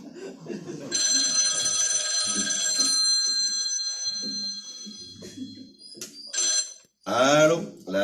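A telephone rings in two electronic bursts while calling someone back, the tone sustained and fairly loud, with muffled talk before and a voice answering at the end.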